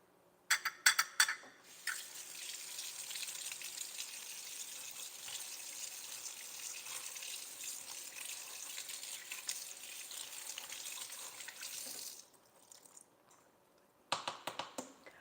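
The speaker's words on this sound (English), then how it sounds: "let me just rinse this off right quick." Tap water running steadily for about ten seconds while raw shrimp are rinsed in a kitchen sink, with a few clicks and clatters before and after the flow, close and fairly quiet.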